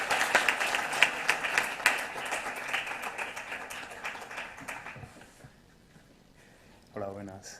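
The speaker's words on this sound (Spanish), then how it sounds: "yo les pido a todos ustedes un gran aplauso" Audience applause at a memorial gathering for victims of hate crimes, moderate clapping that thins and fades out over about five seconds, followed by quiet and then a voice beginning to speak.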